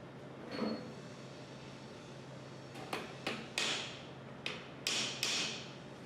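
Metal parts knock together a handful of times while new dowel pins go into a 400 Series pump during a rebuild, with sharp taps and clicks scattered over about six seconds against a low steady hum.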